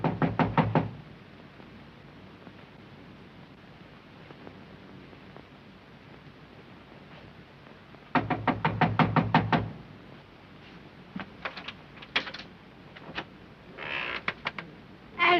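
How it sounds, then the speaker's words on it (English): Knuckles rap on a door in several quick bursts of sharp knocks, loud and close, with quieter scattered taps and faint room noise between them in a 1933 film scene. "Knock on it."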